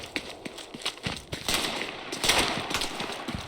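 Rapid gunfire in a team shooter video game, a scatter of quick sharp shots and bursts, moderately loud, with a busier cluster of firing in the middle.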